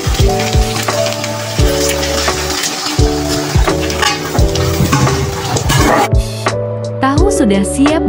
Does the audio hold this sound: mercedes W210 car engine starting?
no